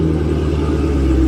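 A car engine revs and rumbles loudly and close, holding a steady throaty drone while the RPMs are checked with an all-in-one boost and ethanol gauge.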